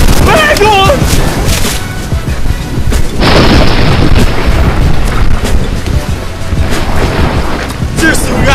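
Loud booming thunder from a nearby lightning storm rolls in with a sharp crash partway through, followed by sustained rumbling and rain-like hiss, with excited voices early on.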